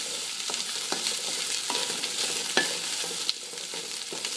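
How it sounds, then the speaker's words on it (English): Rice is tipped into a pot of beans and sofrito, giving a continuous bubbling hiss marked by scattered scraping clicks and a couple of sharper knocks, close up. "And then I add my rice."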